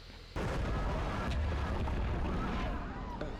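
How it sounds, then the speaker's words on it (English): Continuous heavy bombing in a Walking Dead episode, with loud, sustained rumbling explosions and blasts starting abruptly and rolling on without pause, dense and close. "They just bombing the whole city?"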